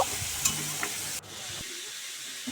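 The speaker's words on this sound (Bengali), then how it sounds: "পটল আর আলুটা ধুয়ে রেখেছিলাম কেটে সেটাকে নুন আর হলুদ দিয়ে ভালো করে ভেজে নেব" Cut potato and pointed gourd fry in oil with salt and turmeric, a close sizzle with a few stirring knocks that cuts off abruptly midway, leaving a quieter, softer hiss.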